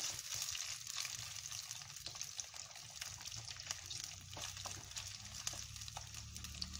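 Potato slices frying in oil in a home kitchen, a soft, steady bubbling sizzle that continues without a break at low volume.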